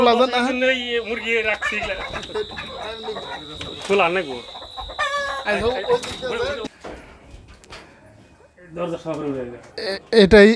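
Tiger chickens at a poultry farm, clucking and squawking nearby, with someone talking over much of the flock noise and a faint steady high whine in the background.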